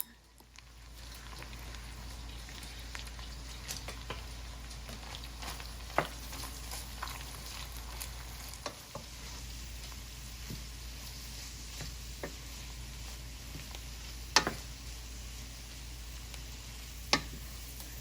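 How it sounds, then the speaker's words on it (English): Kale fries in a pan with Italian sausage, garlic and onion, a faint steady sizzle under a low hum, with a few sharp clicks of utensils against the pan spread through. "we're just gonna add our kale now to it"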